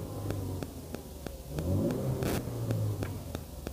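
A Honda Accord engine hums steadily as the car creeps forward and back, a low continuous rumble with regular faint clicks and a brief swell midway.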